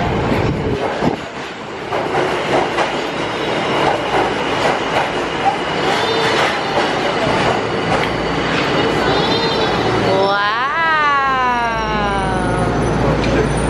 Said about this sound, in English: oh, here comes the subway